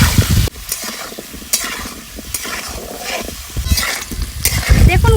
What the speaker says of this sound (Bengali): এবার গাটি কচুগুলো ভাজার জন্য কড়াইতে দেব সরষের তেল, গাটি কচু।